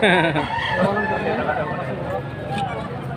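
Rooster crowing amid other fowl at a livestock market in Padre Garcia, Batangas, a loud close crow with clucking around it while people talk over the scene.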